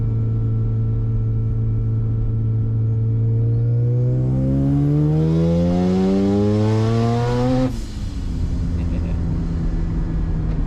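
A car engine climbs steadily in pitch to a high-revving scream toward its 8,700 rpm redline, then abruptly drops off as the throttle lifts, loud and close throughout.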